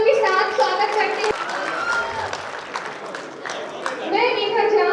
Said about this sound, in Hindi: एक जोरदार तालियों के साथ स्वागत करते हैं।